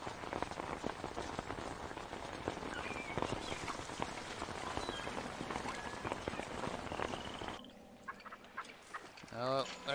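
Hailstorm sound effect in the city-building game Pharaoh/Cleopatra: a dense, loud clatter of pelting ice fills the first seven and a half seconds, then cuts away to quieter game sounds.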